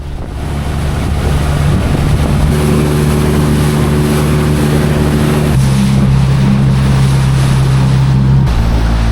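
A small outboard motor on an inflatable dinghy drones steadily amid wind and rushing water off Kalkan, Turkey, its hum shifting pitch midway and cutting off near the end.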